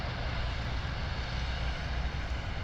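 Airbus A380 with four Rolls-Royce Trent 900 turbofan engines landing at Birmingham Airport, heard as a steady, loud broadband jet roar with heavy low rumble that holds constant throughout, with no voices.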